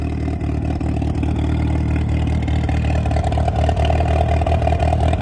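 A 2nd-generation Dodge Stratus R/T car engine, running again after a decade, idles steadily up close without its exhaust hooked up, a low rumbling drone with faint rhythmic clatter and no voices.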